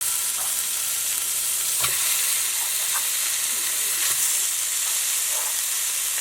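Hickory smoked bacon, about 2.5 pounds, frying in a pan gives a steady, loud sizzle and hiss, with a few faint scrapes of stirring and no talking.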